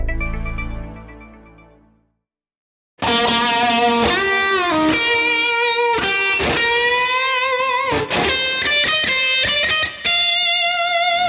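Electric guitar played through a distortion pedal in a bright British AC-style tone, a sustained solo of pre-bent notes released and bent again, loud and alone after a decaying chord and a brief silence.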